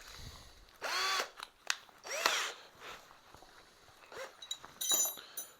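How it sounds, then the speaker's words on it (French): An Erbauer 12V cordless drill drilling, with short whirring bursts that rise and fall in pitch as the motor spins up and stops, close and fairly loud, with a few clinks between runs. "Mode perçage, vitesse 2. Vitesse 1."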